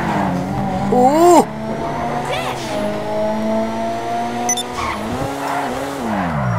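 A Furore GT car in GTA 5 skids on its e-brake, tires squealing in short rising whines over a revving engine that keeps droning through the rest of the clip.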